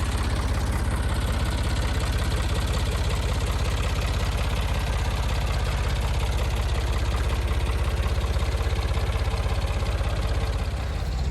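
An old Ford tractor engine, more than forty years old, runs steadily on a snowy, cold day, with a loud, even idle that rumbles on alone and unbroken the whole time.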